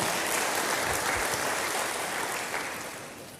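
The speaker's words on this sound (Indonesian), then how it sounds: "Yang setuju sama saya, berikan tepuk tangan bagi Tuhan." Applause from a church congregation at a sermon, a dense sustained clatter of many hands clapping that holds steady before tapering off toward the end, with no talking over it.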